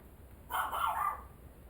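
A single short dog bark or yelp, fairly faint and distant, over quiet background hiss.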